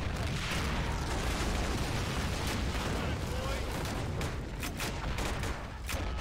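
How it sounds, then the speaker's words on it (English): An explosion in a toy army men battle video game on a large Game of Thrones map: a loud, sustained roar of blasts and crackling gunfire that fills the whole stretch, easing slightly near the end, with a voice faintly underneath. "There's the explosion right there"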